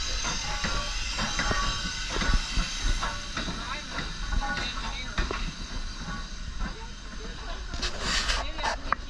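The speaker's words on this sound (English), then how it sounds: "Here's the locomotive." A steam locomotive on the Strasburg Rail Road passes along the tracks with a hissing, rumbling wash of noise and faint clattering, fairly loud and close, with a voice talking over it.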